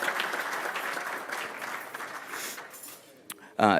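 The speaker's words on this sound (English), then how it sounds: "Round of applause." Audience applause for a keynote speaker, the Vice President of Information Security at Sleep Number, at a Minneapolis cybersecurity event; steady broadband clapping fills most of the stretch, thinning toward the end before a brief voice cuts in.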